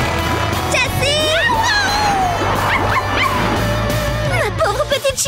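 A small female dog in a children's animated show whimpers and yips repeatedly in rising, wavering cries over a busy background, with other voices and sounds mixed in.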